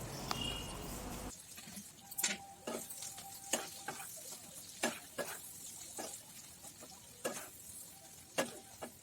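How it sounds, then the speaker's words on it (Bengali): Onions frying in oil in a pan for egg curry: a soft sizzle under repeated sharp scraping clicks of a spoon stirring, close by, after a brief burst of louder noise at the start. "প্রায় আমাদের পেঁয়াজ ভাজাটা হয়ে গেছে।"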